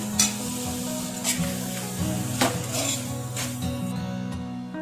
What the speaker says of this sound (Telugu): ఇప్పుడు కొంచెం ఉప్పు, కారం, పసుపు వేసి బాగా వేయించుకోవాలి.